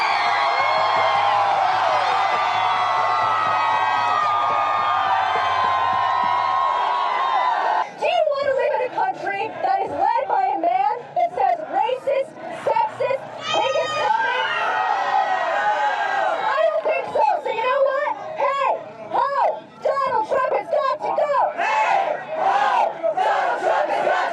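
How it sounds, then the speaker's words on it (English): Hundreds of protesters on a street in Ybor, Tampa, scream and shout at each other, a dense, loud crowd roar that turns into overlapping bellows and yells close by. "hundreds of people screaming at each other on the streets of Ybor"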